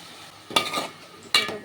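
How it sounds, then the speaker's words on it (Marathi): Cauliflower and potato pieces tumble into a pan in two distinct bursts, a clattering sizzle and rustle each time, close and fairly loud with no voices. "मी भाजी टाकून घेते सगळे"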